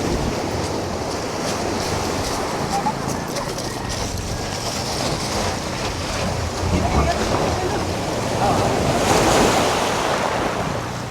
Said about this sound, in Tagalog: Sobrang lakas ng alon kaya nahihirapan yung bangka.